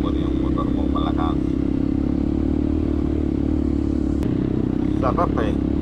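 Enduro motorcycle engine labouring up a shaded mountain trail on Mount Ugo, a loud, steady drone throughout with clattering and a brief sharp knock, while a rider talks over it.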